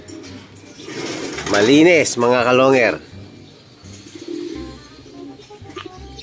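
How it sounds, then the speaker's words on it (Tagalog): Racing pigeons arrive at a loft during a derby race in Carranglan, Nueva Ecija, with soft low cooing running beneath someone speaking loudly close by. "Parating na po yung mga ibon."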